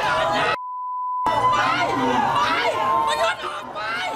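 A protest crowd at a rally in Thailand shouts and jeers in a loud, continuous roar of overlapping voices. A steady electronic censor beep briefly cuts across it early on.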